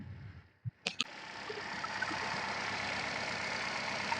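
A 2009 Hyundai i10 petrol car engine, single-owner used car, starts with a couple of sharp clicks and then settles into a steady, even idle hum, close and fairly quiet, no talking.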